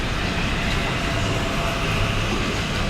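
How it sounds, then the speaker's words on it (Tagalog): An MRT metro train in Singapore rumbles past at close range, a steady loud roar of wheels and rails that fills the whole stretch without a break. "Ito ay, ano na to, MRT."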